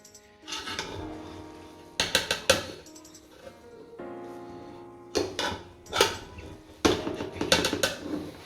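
Chicken biryani being served onto a plate, with repeated metallic clinks and scrapes of a serving utensil against cookware and the plate in irregular bursts, fairly close.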